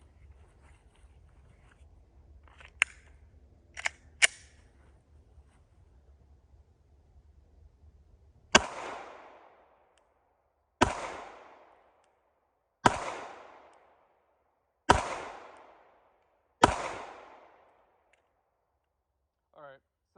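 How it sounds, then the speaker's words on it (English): A Glock 48 MOS compact pistol fires five sharp, loud shots at a target about 10-12 yards away, spaced roughly two seconds apart, each crack trailing off in a short decay, after a few faint clicks of handling. "I'm going to shoot through it just to shoot at this target over here about 10-12 yards away"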